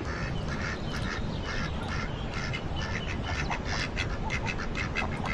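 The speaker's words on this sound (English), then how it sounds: "Come the ducks." A group of ducks at a market-day outing quacks continuously and close by, overlapping calls over a steady outdoor background, with no talk.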